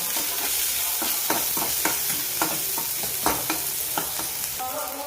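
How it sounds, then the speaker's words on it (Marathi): Peanuts, onion and green chili stir-fried together in a pan, a loud steady sizzle with rhythmic spoon scrapes every half second or so, up close. "आता परतू देणार आहे आपण हे मिश्रण सगळं कांदा मिरची शेंगदाणे छानपैकी असे परतून घ्यायचे"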